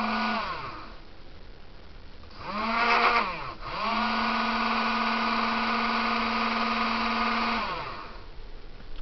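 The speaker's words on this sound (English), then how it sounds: "This is for controlling the servo motors, right, left and center, as you can see here." Small servo motors driven from a PC through a PIC microcontroller whir at changing speeds, winding down, briefly speeding up around the middle, then settling into a steady, fairly loud drone before slowing again.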